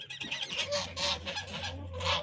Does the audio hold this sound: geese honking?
yes